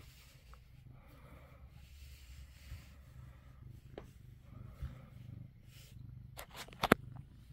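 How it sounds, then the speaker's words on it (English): Soft, low rumbling purr close up, quiet and continuous, with a few light scratching and rustling noises near the end. "You can hear him purring."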